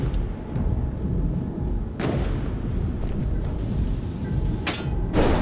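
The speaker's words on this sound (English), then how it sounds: "I'm hearing explosions" Heavy explosions in the video game Space Engineers, deep rumbling booms rolling one after another under a constant low roar, with a few sharper blasts breaking through.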